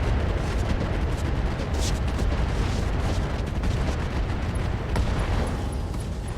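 Explosions in the RogueTech mod of the BattleTech mech combat game, striking an Archer mech, roll as a loud, continuous, dense rumble of booms that barely lets up.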